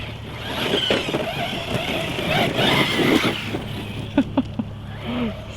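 A Jambo MT RC monster truck running on 6S power accelerating on a BMX track, a steady, fairly loud electric motor whine with gravelly rolling noise and a few sharp knocks near the end.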